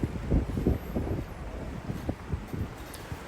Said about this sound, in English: A little windier here.